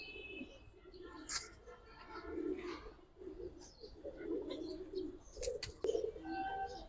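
Pigeons at a pigeon sale coo softly in low, rolling bursts with a few faint chirps, quiet and steady in the background.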